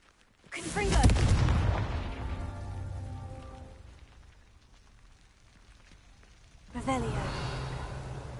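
A Confringo spell explosion in Hogwarts Legacy bursts with a heavy rumbling boom that rolls off slowly, then a second blast hits a few seconds later, both loud and near.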